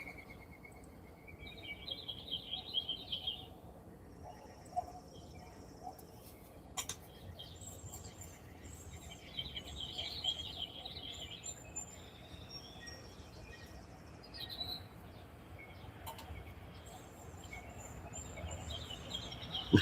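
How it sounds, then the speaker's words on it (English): Birds sing outdoors in the morning, a faint scatter of distant chirps and short song phrases. They come and go over a quiet, steady background, with a few louder clicks mixed in. "Listen to the birds"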